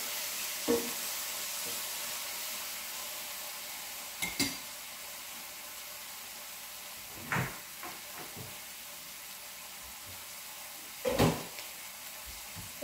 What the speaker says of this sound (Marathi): परतून घ्यायचं आणि याला गोल्डन ब्राऊन होईपर्यंत